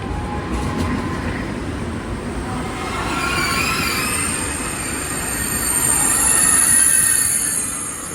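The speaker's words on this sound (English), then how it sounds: "It's a long train, man." A long TGV Lyria high-speed train rolls past on the line in Switzerland, a steady loud rumble of wheels and rushing air with high squealing tones, swelling as the cars keep passing for several seconds.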